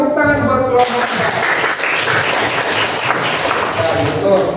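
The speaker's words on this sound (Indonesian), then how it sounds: "Oke, tepuk tangan buat kelompok kita." Classroom applause for a student group after a presentation on a school without bullying, a dense wash of clapping following some talk at the start and continuing steadily throughout.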